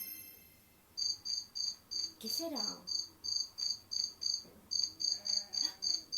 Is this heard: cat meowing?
no